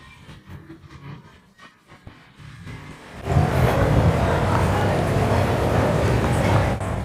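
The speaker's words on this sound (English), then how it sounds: "These Mercedes cars here in Cyprus are very interesting." A Mercedes car passes on a street in Cyprus, quiet clicks and distant traffic giving way to a loud, broad rushing roar that holds steady as it goes by close.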